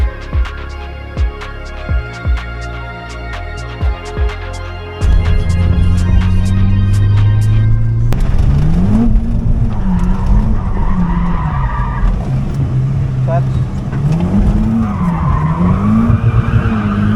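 Nissan S14 drifting at Raleigh Raceway: engine revs pulse at first, then a loud sustained tire squeal and skid sets in, with the engine note rising and falling under the screeching rubber, close and intense.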